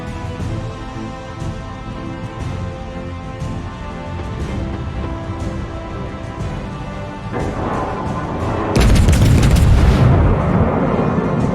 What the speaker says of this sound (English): Enemy battleship sunk.